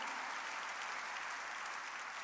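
A church congregation claps steadily together during a worship service, a dense, continuous wash of applause filling the room from start to finish.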